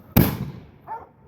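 Fireworks going off outdoors around Christmas Eve: one sharp, loud, close bang that decays over about half a second, followed by a fainter, brief tonal whistle or crackle.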